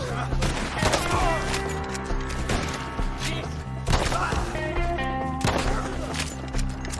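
Gunfights in Red Dead Redemption II, with repeated sharp gunshots cracking through a loud shootout. They sit over steady music, and characters shout during the action.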